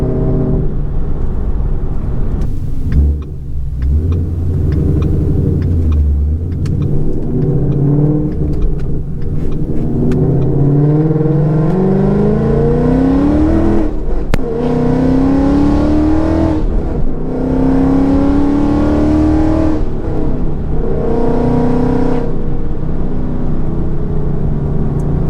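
A 2015 Ford Mustang with a loud aftermarket exhaust revs hard several times, each rev climbing in pitch and falling back into a deep, raspy burble, close and loud with no talking.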